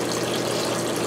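Water runs steadily through homemade biological sand filters, producing a loud, continuous rushing and gushing with no pauses and no voices.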